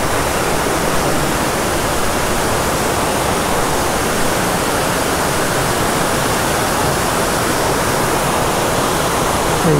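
A monsoon-season waterfall roars in a dense, continuous wash of rushing water, loud and steady throughout with no talk and no breaks.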